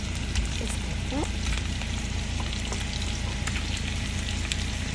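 Lamb meatballs fry in a pan with a steady, close sizzle and fine crackling spatter that runs evenly throughout, no voices over it.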